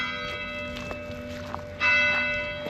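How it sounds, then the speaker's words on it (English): Church bells ring out for eleven o'clock in the martyr village of Oradour-sur-Glane, sustained resonant tones with a louder strike near the end, heard from a moderate distance. "Church bells ringing. For 11 o'clock."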